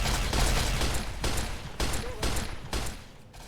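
Rapid gunfire bursts in the Arma Fallout/Ravage mod, several sharp volleys in quick succession at close range, fading slightly toward the end.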